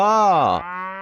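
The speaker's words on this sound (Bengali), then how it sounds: "গরু বাছুর দাঁড়িয়ে আছে" A cow lowing in a single sustained moo that slides downward in pitch partway through and then holds steady, loud and close, with no other sounds.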